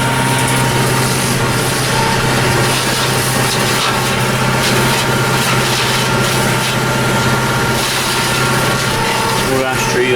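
Tractor-mounted hedge trimmer and its engine running steadily throughout while finishing hedge trimming on a farm, a continuous loud drone with mechanical clatter, briefly shifting near the end.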